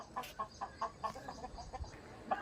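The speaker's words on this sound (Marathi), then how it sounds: "इकडे पण कोंबड्या आहेत मी त्यांना बोलवतो" Backyard chickens give a run of short, evenly spaced clucks, close but fairly quiet, over low background noise and with no voices.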